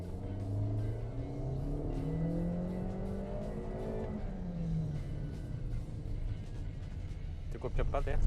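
A Toyota Kijang Innova Zenix V petrol car accelerates from inside the cabin, its engine note rising steadily through the revs, dropping at a gear change and climbing again at moderate volume under a steady road hum.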